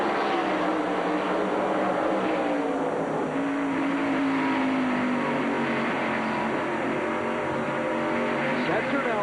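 Pontiac stock car in a 1995 NASCAR Busch Series race at IRP, heard from its roof camera: a continuous loud engine roar with pitch sweeps as it shifts and accelerates, wind rush over the body, and other cars around it.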